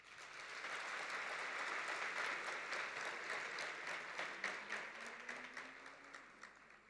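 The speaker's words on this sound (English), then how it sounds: "I think you should give yourself a warm round of applause." Audience applause at a university welcome ceremony, a broad sustained wash of many hands clapping in a large hall, fairly distant and gradually thinning toward the end.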